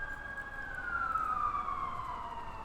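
An ambulance siren wails steadily throughout, its high tone sliding gradually downward, moderately loud over a rumbling backdrop at a backyard near Wasaga Beach.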